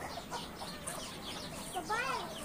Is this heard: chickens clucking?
yes